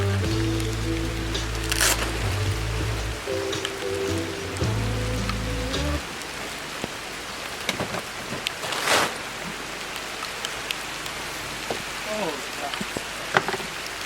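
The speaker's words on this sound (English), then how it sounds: "all of a sudden a rainstorm came through, and you can start to see some little splatters coming up here" A rainstorm patters steadily on an outdoor work table during trailer painting, with scattered drops splattering and a low steady hum through the first few seconds before the rain continues alone.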